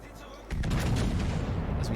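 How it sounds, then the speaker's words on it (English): The Patrie's main battery guns fire in World of Warships: after a quieter lead-in, a heavy boom hits at half a second and rolls into a loud, sustained rumbling roar. "As we just start off here, firing."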